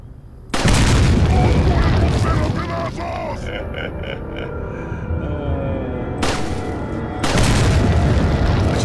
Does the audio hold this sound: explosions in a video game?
yes